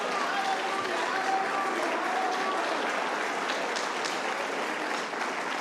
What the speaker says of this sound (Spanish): denle un aplauso al Señor y gócese